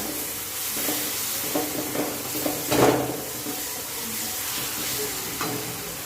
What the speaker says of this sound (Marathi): छान असा मस्त फ्राय होते आता